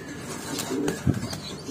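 A pair of young pouter pigeon squabs, black and white, giving a couple of soft low coos close by, along with a brief rustle of wings.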